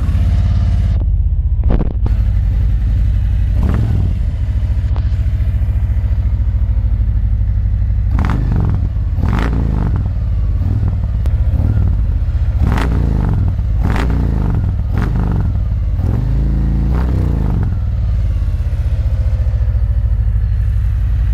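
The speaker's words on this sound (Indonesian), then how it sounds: "Mas, bisa dinyalain mesin." Modified 2018 Harley-Davidson Road Glide engine running close and loud, a deep rumbling idle broken by a series of sharp throttle blips and revs in the second half.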